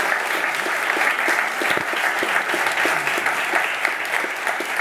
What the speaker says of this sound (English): Let's give one more round of applause to our Robbie and Jennifer and Dan.